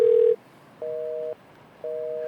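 Unanswered telephone call tone: a long steady beep, then two repeated dual-tone ring pulses separated by short silences, clear and alone with no talking.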